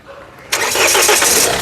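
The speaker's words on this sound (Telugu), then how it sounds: "ఒక్కసారి ఇంజన్ స్టార్ట్ చేయి" A 2015 Mahindra XUV500 W6 engine cranks and catches on the first try, then settles into a loud, steady idle close by.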